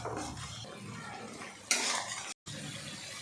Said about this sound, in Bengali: এবার সমস্ত কিছু আমি ভালো করে কষিয়ে নেব। ততক্ষণ পর্যন্ত কষাতে হবে যতক্ষণ না মশলা থেকে তেল ছাড়ে।